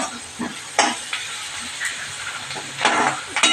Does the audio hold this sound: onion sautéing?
yes